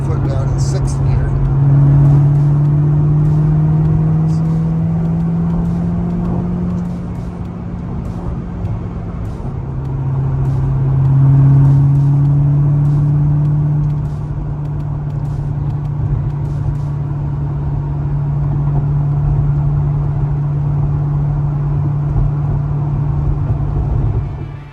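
A supercharged 638 hp C6 Chevrolet Corvette ZR1 accelerates hard in sixth gear from about 70 mph, a loud, steady engine drone with a rising tone heard from inside the car.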